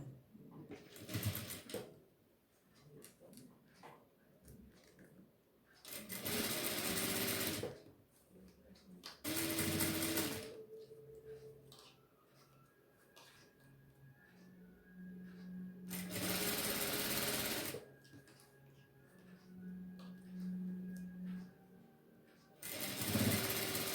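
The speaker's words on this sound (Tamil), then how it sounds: "இதுக்கு மேலேயே இன்னொரு ஸ்டிச் பண்ணிடலாம்" Domestic sewing machine stitching over elastic on a classic brief's folded edge during a tailoring class, running in several separate loud bursts of steady whirring separated by quieter pauses with faint background sounds.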